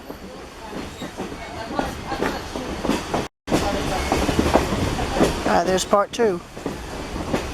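Essex steam train rolling and slowing on the rails, a steady rumble with track noise throughout, briefly cut off once, while people talk over it.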